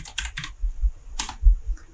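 Rapid bursts of key clicks from code being typed on a computer keyboard, close and crisp, coming in short clusters separated by brief pauses, with no voices.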